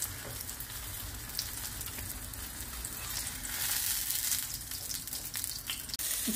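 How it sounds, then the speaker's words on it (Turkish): Sliced eggplant frying on both sides in a pan of hot oil, a steady close sizzle with crackling spatter running throughout, no talking. "Şöyle dilimlemiş olduğumuz patlıcanları burada çift taraflı kızartıyoruz."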